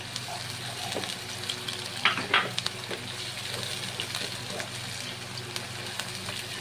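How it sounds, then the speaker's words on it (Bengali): Spices, green chilli, ginger paste and chopped tomato for Mughlai chicken fry and get stirred in a pan, a steady close sizzle with scraping and clattering strokes, the loudest bursts coming in a short cluster midway. "ভালো করে ভেজে নিতে হবে।"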